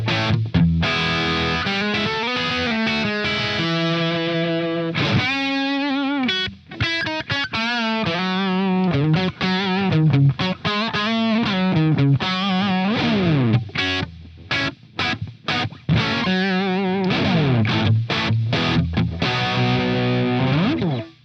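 Electric guitar with the amp gain turned all the way up for a hard-rock tone: loud, continuous distorted chords and riffs with brief pauses between phrases, played alone with no talking.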